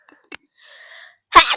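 One person gives a single loud, sharp sneeze outdoors at a stormy night campsite, preceded by faint small breaths and a quiet whistling tone.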